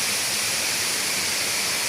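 Inambacan Falls in Catigbian, Bohol roars as a loud, dense, continuous rush of falling water filling the whole clip without pause.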